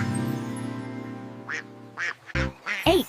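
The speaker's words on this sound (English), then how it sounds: "Quack, quack." A cartoon duck quacks in a children's alphabet song, several short nasal quacks in quick bursts over a sustained musical backing.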